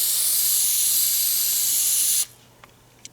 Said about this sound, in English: going to spray it with some Power Tune just to clean this off here